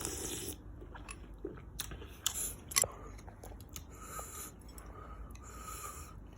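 Beef meatballs and noodles being chewed up close, with soft wet bites and a few sharper crunchy bursts over a quiet background.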